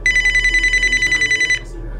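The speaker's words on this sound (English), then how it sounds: "go answer the phone now" A telephone bell ringing in rapid, even pulses, loud and close, for about a second and a half before stopping abruptly.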